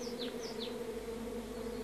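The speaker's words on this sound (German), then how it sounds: "Auffallend ist die akrobatische Manövrierfähigkeit der Wespen." Wasps buzz in flight close by near the entrance of a ground nest in a garden, with several sharp swooping whines over a steady drone, no voices.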